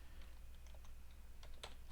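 Light clicks of a computer keyboard as a short command is typed, soft irregular keystrokes with a small burst of quicker taps, quiet and close against a faint steady hum.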